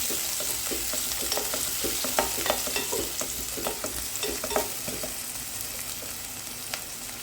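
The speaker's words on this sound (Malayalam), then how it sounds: "ചെറിയ ഉള്ളി ഒരു 10 ഞാൻ എടുത്തു. നന്നായി ഇളക്കി കൊടുക്കും." Small onions and curry leaves frying in a pan for a sardine curry, with a steady sizzle broken by frequent scraping stirs of a spoon against the pan, close and continuous.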